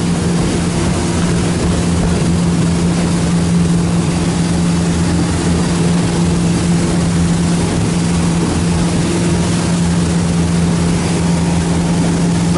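Four Winns 200 DLX motorboat running on open water, its engine giving a steady loud low drone with a constant hum and rushing water wash throughout, no voices.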